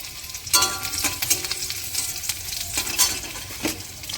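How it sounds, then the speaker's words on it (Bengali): Dried red chilli, chopped ginger and green chilli frying in oil, a close crackling sizzle broken by repeated scraping and stirring strokes. "তেলের ওপরে শুকনো লঙ্কাটা দিয়ে নিয়েছে আদা কুচিগুলো দিয়ে দিচ্ছে কাঁচা লঙ্কা কুচি দিয়েছে দিয়ে একটু ভেজে নেবে"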